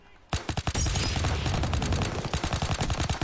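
A PPSh submachine gun in Call of Duty WW2 multiplayer fires a loud, rapid continuous burst of automatic shots, dense and close, lasting about three seconds.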